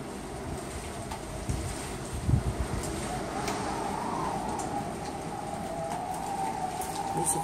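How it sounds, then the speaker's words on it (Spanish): Heavy typhoon rain pours steadily in Busan, a dense constant hiss of drops on surfaces with some wind, heard alone at close range. "y llueve mucho."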